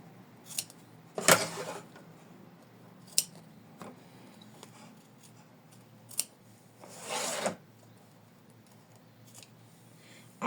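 Scissors snip through felt while trimming a seam allowance on a handmade postcard, a few scattered close cuts with a longer rasping stretch near the end, otherwise quiet.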